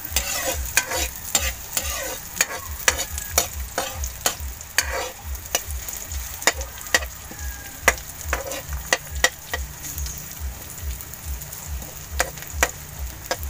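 Garlic and onion sauté in a hot pan with a steady close sizzle, and a utensil scrapes and stirs in regular sharp strokes throughout.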